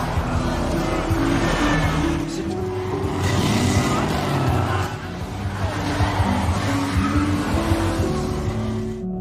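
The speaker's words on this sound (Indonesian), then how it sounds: "Namun para polisi menyadari, aksi kejar-kejaran pun terjadi." A film car chase with police, with engines roaring loudly and continuously, tires skidding and squealing, and cars rushing past, all in a dense, sustained mix of action sound.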